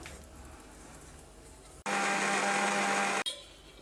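A kitchen blender grinding carrots with honey for juice starts abruptly, runs as a loud, steady high-pitched whir for just over a second, then cuts off, with quiet room noise before and after.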